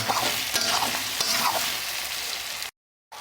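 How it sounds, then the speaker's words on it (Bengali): Potato, onion and tomato fry with chilli powder and salt in a pan for a catfish curry, giving a steady close sizzle with stirring scrapes that stops briefly near the end and then resumes. "আলু পেঁয়াজ টমেটো একটু ভাজা হয়ে এসছে"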